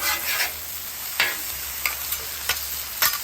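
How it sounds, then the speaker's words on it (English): Deer burger patty pressed flat on a hot griddle, giving a steady close sizzle with a few sharp crackles and pops scattered through it. "Make sure your burger's pressed against the griddle for pure contact."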